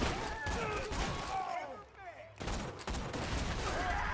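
Rapid gunfire bursts from the video game Borderlands 2, with repeated close shots and in-game sounds, fading briefly before the firing resumes, and a voice talks under the action.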